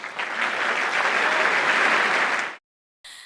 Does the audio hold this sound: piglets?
no